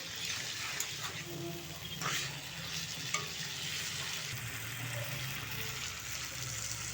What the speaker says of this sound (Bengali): এবারে কাজু বাটা আর চালমগজ বাটা জলটা দিয়ে দিলাম।